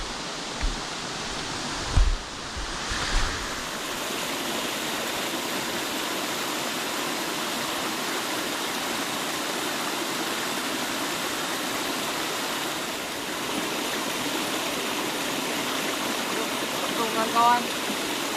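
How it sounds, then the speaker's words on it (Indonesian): Luthu waterfall in Aceh Besar, Indonesia, a steady broadband rush of falling water filling the scene, with a few brief knocks near the start and faint talk beneath. "ini yang dikatakan atau dinamakan air terjun Lutu, Kabupaten Aceh Besar"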